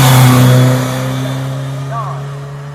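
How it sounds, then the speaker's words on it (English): Mitsubishi Lancer Evolution 9 rally car on a hillclimb demo run, its engine droning loud and close with a strong tone early, then easing and fading slightly; a voice talks over it. "Next up, we go back to the WRC era and the Mitsubishi Evolution 9"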